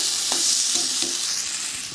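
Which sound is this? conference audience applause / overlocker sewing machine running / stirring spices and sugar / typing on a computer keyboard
stirring spices and sugar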